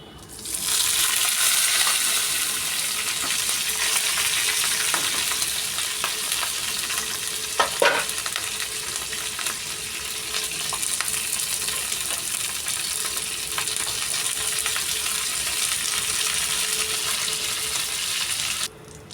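Green chillies and a tempering of spices fry steadily in a pan for Gujarati dhokla, a continuous hiss of sizzling oil with faint stirring clinks and a brief metallic knock midway, no voices.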